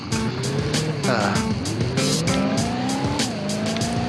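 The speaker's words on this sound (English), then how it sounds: "Just launched the car into another vehicle that just drove on by unfazed" Engine roar with rising revs and sharp tire squeals, a loud racing-game car skidding and impacting, with voices and game sounds mixed in.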